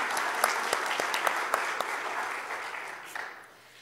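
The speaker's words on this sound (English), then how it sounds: "So if you can give them a round of applause." Applause from a church service congregation honouring group leaders, a dense steady wash of clapping with a few sharper claps standing out, fading toward the end.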